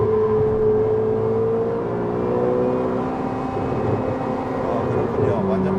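A Ferrari 488 GTB turbo engine pulls toward an 8,000 rpm redline, its tone climbing and falling through the gears from inside the car, with voices talking over the drone.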